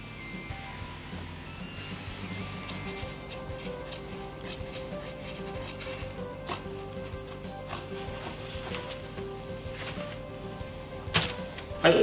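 Kitchen paper being cut in half for a homemade no-sew mask, a steady soft rubbing and rasping of blades through paper, close up, with a few sharper clicks near the end and no talking.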